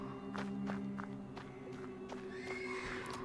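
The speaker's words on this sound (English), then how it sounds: "доносится обеспокоенное ржание станционной лошади" Worried whinnying of a station horse at a post station in the video game Black Book, rising near the end over a steady droning backdrop with soft hoof-like footsteps.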